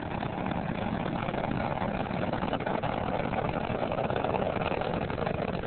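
Space Shuttle Atlantis's engines during launch make a steady, dense, rumbling roar that stays continuous and unbroken throughout.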